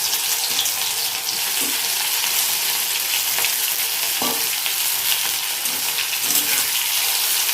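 Marinated okra fries in hot oil in a wok, giving a steady, close sizzle throughout with a few faint stirring knocks and no talking.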